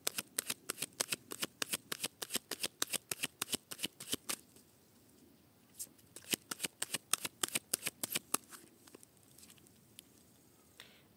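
A tarot deck is riffled and shuffled by hand in quick, dense bursts of card flutter, pausing briefly midway before more rapid shuffling, close and crisp with no talking.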